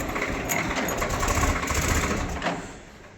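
A Swaraj 855 tractor engine idles steadily with a low rumbling chug, fading slightly near the end.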